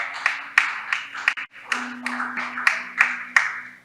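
Church congregation clapping in rhythm, a steady series of sharp claps from a crowd in a reverberant hall, with a faint sustained tone beneath and no speech.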